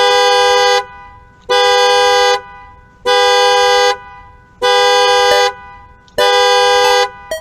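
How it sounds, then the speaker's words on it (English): Five long, loud, evenly spaced car horn blasts sound in the Freddy Fazbear's Pizzeria Simulator video game, each a steady tone of just under a second separated by short gaps. "Car honk."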